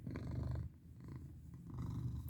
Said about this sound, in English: I hope you can hear me over his purring